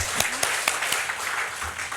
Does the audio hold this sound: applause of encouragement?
yes